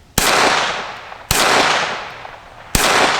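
Three loud, sharp reports from a Sig Sauer P322 pistol firing mini mag rimfire rounds, spaced about a second apart, each with a broad crack and a long decaying echo, with no talk.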